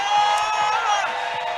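Crowd at a pro bouldering competition final cheering and whooping for two climbers, a loud, sustained wash of voices with a few sharper shouts.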